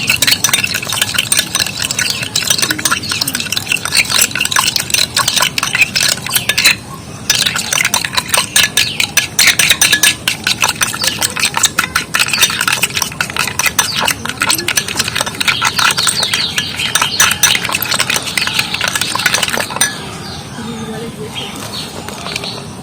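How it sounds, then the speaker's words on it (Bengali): Rapid, continuous whisking of a homemade rice-water shampoo mixture in a bowl, a dense scratchy beating that runs nearly unbroken for about twenty seconds before stopping. "আর এর মধ্যে ভালো করে শ্যাম্পুটাও ফাটিয়ে নেব।"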